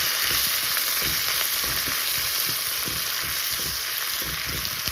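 A handful of mint leaves sautés in a pan with onion and chilli for mint coconut chutney, a continuous close sizzle broken by soft irregular stirring scrapes, with no talking.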